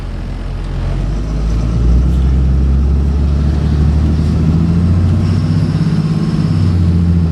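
A 2005 Ford F650 rollback flatbed truck idles as it is put into drive, a deep, steady diesel rumble close by that swells slightly after the first couple of seconds and holds even, with no talk.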